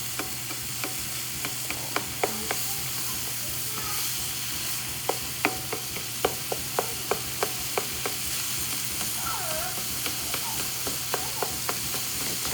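Homemade chili sizzling steadily in a pan while a utensil stirs and chops through it, with a regular series of sharp close taps and scrapes over a constant frying hiss and no talking.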